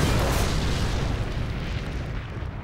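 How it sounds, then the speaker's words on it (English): A World War I tank blows up in a heavy, sustained explosive roar that is loud and rumbling and fades slightly as it continues. "The tank would blow up."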